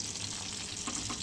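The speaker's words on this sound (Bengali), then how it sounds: "চলো ভেজে নিই মাছগুলো।" Prawns fry in hot oil with a dense, steady sizzle that stays close and even throughout the short moment, with no voices.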